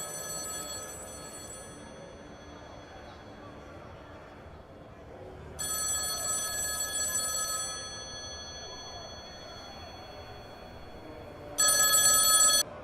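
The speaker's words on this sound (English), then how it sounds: "It's going to be the rotary phone." A rotary telephone bell rings in short bursts separated by long pauses, each ring louder and brighter than the one before, with a faint background hum and no talking.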